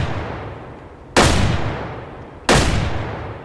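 Two loud, sharp gunshots about 1.3 seconds apart ring out over quiet outdoor ambience while hunting birds in the video game Way of the Hunter, each crack decaying into a long echo.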